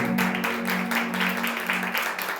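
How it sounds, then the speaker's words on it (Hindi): A church congregation claps along in rhythmic praise, quick steady claps over a sustained musical tone, with faint voices underneath. "ताली बजा के हम प्रभु के नाम की स्तुति करें"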